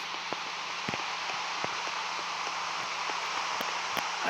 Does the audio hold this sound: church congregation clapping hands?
no